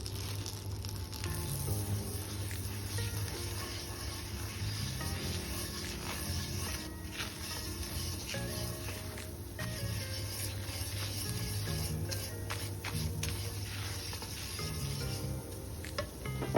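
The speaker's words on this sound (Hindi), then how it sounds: "वन टेबल स्पून मैदा ले लेंगे और इसको हम थोड़ा सा भून लेंगे।" A tablespoon of maida flour roasting in a pan gives a steady, even sizzle that runs continuously without pause, with faint scraping of stirring mixed in.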